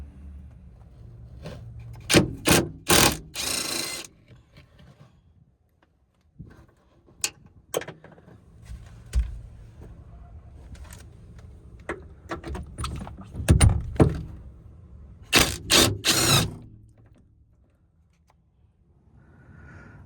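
A ratchet removes the rear strut top hat bolts on a 1992–2000 Honda Civic. Sharp clusters of close clicking come in several bursts, with quiet handling noises between them and no speech.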